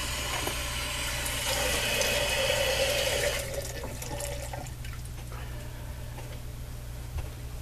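A laundry room sink tap runs with a steady splashing stream for a few seconds, then shuts off, leaving faint drips and quiet room tone.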